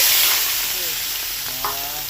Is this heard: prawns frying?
yes